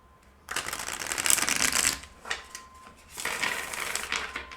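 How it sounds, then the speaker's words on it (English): A deck of tarot cards shuffled up close in two riffling, rustling bursts separated by a brief pause, moderately quiet, with no speech over it. "Right, I want to shuffle a little bit more."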